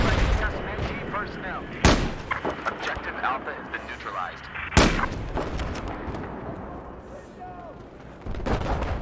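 Gunfire in the Battlefield 6 video game, with two loud sharp shots standing out and another near the end, over a dense background of distant battle noise and scattered smaller reports.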